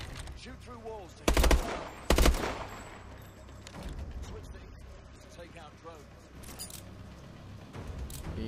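Gunfire fired through walls in Call of Duty: Advanced Warfare, with two loud, sharp bursts close together early on, then quieter game ambience and scattered effects under talk.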